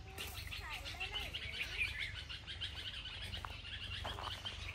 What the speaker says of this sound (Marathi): लय पक्षी आहेत